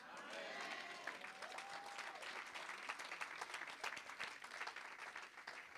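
A church congregation applauds and cheers through a sermon, a dense crowd clapping that stays steady for several seconds with scattered shouts and a sustained voice rising over it.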